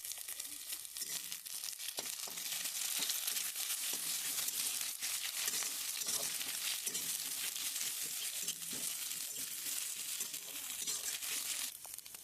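Eggs sizzling as they fry in a pan for egg and soybean fried rice cooked on a chulha, a steady crackling hiss heard close up that continues for the whole stretch, with a little faint talk.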